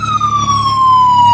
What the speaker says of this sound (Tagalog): May ambulance ng paparating.